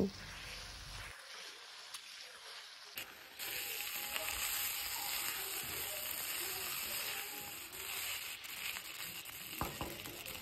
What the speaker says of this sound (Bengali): এখন দিয়ে দিব কেটে রাখা আলু। তো আলুগুলো দিয়ে আমি ভালো মতো কষিয়ে নেব।